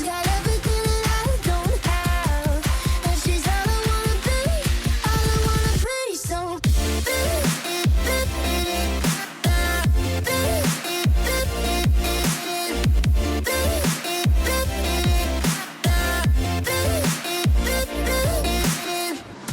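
A dance remix of a song plays loud and full, opening with a fast pulsing synth build, then dropping into punchy beats with a deep bass and brief gaps between phrases.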